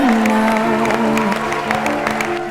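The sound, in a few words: audience applause at talent show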